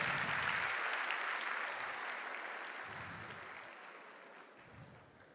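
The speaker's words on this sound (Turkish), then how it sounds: "Ödül alan herkesi büyük alkışlarınızla bir kez daha tebrik ediyoruz" An audience at an international Turkish language congress gives a long, dense round of applause for award winners, steady at first and slowly fading.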